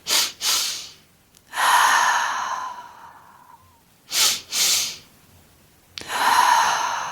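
A slow breathing exercise: two quick sharp inhales, then a long drawn-out exhale, repeated twice more, close and alone.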